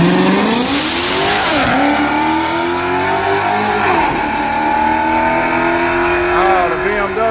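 A Mustang and a BMW launch side by side in a small-tire street-outlaw drag race at Yello Belly, engines roaring loudly and climbing through rising, shifting revs, with voices faintly audible underneath.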